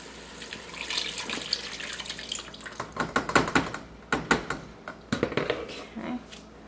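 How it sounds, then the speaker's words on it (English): Chicken marinade for a spicy Chamorro chicken estufao is poured into a cooking pot, a steady liquid splashing and trickling that grows choppier and more broken toward the end. "I'm going to pour the rest of the marinade in."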